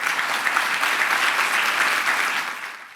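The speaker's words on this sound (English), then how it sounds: "Please welcome them with a round of applause." Applause from a conference audience welcoming panel speakers at a Latin America trade event, steady and full for about two and a half seconds before tapering off at the end.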